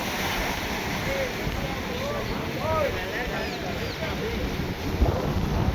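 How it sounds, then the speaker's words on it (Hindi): Strong sea wind sweeps across the rough shore at Kanyakumari, a constant blustery roar with crashing surf beneath it and buffeting on the microphone. Faint whistles and calls of people drift in from the distance. "बहुत अच्छी हवा चल रही है"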